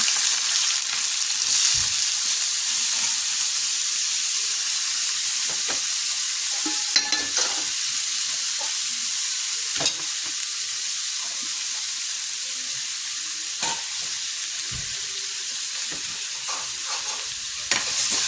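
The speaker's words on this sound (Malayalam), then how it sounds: "അത് ചെറിയ ഉള്ളി ഇട്ട് കൊടുത്തിട്ടുണ്ട്." Small onions (shallots) fry in hot oil while being stirred for a homemade hair oil: a continuous close sizzle with occasional scraping spoon strokes, no voices.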